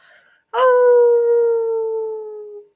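A person's voice imitates a wolf howl: one sustained, tonal howl about two seconds long that starts strong and slowly fades, close and clear, after a faint murmur.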